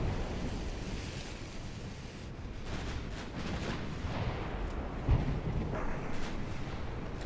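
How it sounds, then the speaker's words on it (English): Naval warship video game combat with a torpedo hit: a dense, roaring low wash of sea and explosion noise, with a sharp thud about two-thirds through, no talk. "Hey, we got a torpedo hit back though."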